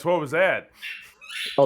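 A dog's squeaky toy ball squeaks in short high bursts between bits of conversation, fairly close, with people talking before and after.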